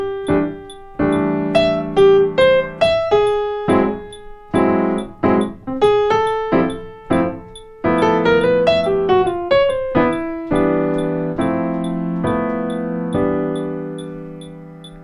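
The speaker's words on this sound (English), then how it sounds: "If I played the melody with those chords, it would sound like this." Piano playing a melody over rootless jazz chord voicings, a steady sequence of struck chords and single notes that ring and fade, played alone with no talking.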